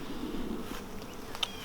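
Honeybees buzzing around an open starter box during an April hive inspection, a steady close drone with a brief sharper whine near the end, no voices.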